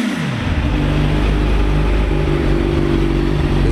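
A 2012 Suzuki GSX-R1000 motorcycle engine, fuel injected, catches immediately and settles into a steady, loud, close idle with a constant low rumble.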